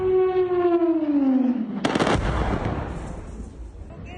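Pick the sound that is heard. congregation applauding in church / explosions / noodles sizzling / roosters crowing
explosions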